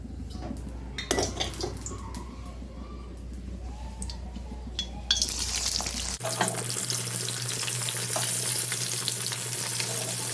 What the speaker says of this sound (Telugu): ఈ పీస్లను ఇప్పుడు మనం ఆయిల్లో డీప్ ఫ్రై చేసుకుందాము